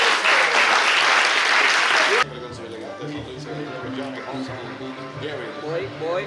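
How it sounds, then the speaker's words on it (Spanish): An auditorium crowd applauds loudly at an inaugural university lecture, a dense burst lasting about two seconds before it drops sharply into speech with background murmur. "Fuerte el aplauso."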